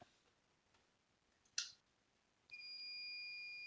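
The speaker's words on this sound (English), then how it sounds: "See that we got an alarm? Firstly, I mute my buzzer." A Bosch fire alarm panel sounds its buzzer after a triggered fire alarm, a steady high electronic tone that starts abruptly and holds, preceded by a single sharp click.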